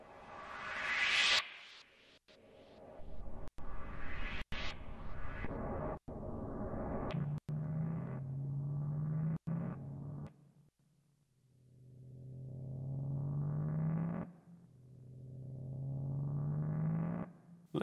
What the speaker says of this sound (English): Let's go with the white noise.